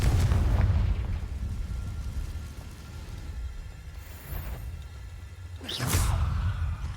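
A Confringo fire spell blasting in the wizard game Hogwarts Legacy, a low booming explosion with rumbling tail, followed by a whooshing swish and a second burst near the end, moderately loud with no voices.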